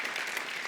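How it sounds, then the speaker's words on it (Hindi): A studio audience at a television comedy show bursts into a brief, dense round of applause. "तो आप सबकी जोरदार तालियों में स्वागत करना चाहूंगा"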